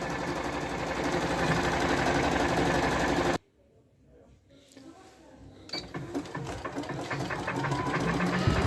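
A Janome 9000 sewing machine stitching an embroidery design, a steady, close mechanical whir of rapid needle strokes that stops briefly and then starts up again, growing louder toward the end.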